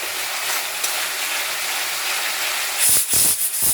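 Koi fish cooks in a pan with spices, a steady broadband hiss of frying that swells into brief louder spitting bursts near the end; no one speaks.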